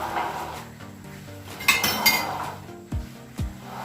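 Vegetables, including cabbage, being stirred in a metal pan with a utensil, giving repeated clinks and scrapes of metal on metal, loud and close, with a couple of sharper knocks near the end.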